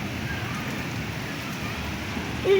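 Hail falls during a Kalbaishakhi storm, a dense, steady patter and hiss spread evenly over the whole stretch, rising slightly at the very end.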